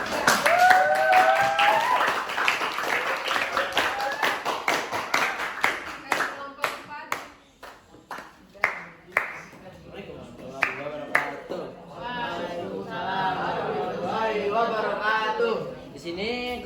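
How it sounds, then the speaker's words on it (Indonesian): A group of students claps in a classroom: a brief spoken instruction, then a run of rhythmic, separate claps, then excited children's chatter and laughter. "Kelompok 3, tepuk tangan dulu."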